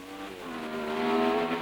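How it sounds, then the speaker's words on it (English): A 1962 Formula 1 race car at the French Grand Prix gives a rising, rasping engine note as it accelerates past, loud and close, over about a second and a half without talk. "It's the Cooper which is second, and the BRM of Richie Ginther, which started 3/4 of a lap behind, is 3rd."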